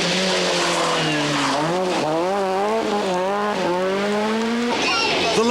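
An old Lancia rally car races through a stage of the 1996 Rallye du Valais in Switzerland, its engine revving hard and rising and falling through gear changes, with tyre noise and a commentator talking over it.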